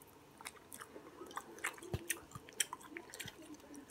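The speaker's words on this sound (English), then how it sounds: "I'm trying to talk and chew at the same time." Close-up chewing of food doused with hot sauce: moist, irregular smacking and squishy bites, quiet and continuous, with no talking.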